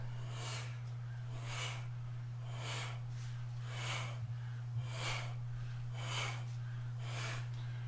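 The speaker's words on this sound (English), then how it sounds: "Do you hear my breathing?" Slow, rhythmic breaths during qigong silk reeling exercise repeat about once a second, steady and close, over a constant low electrical hum.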